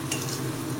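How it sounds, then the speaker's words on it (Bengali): A spice masala frying in a pan on low heat for a Bengali katla fish dish, with a steady soft sizzle and faint stirring scrapes throughout, no voices. "মশলাটাকে কিছুক্ষণ ধরে আমি ফ্রাই করে নেব।"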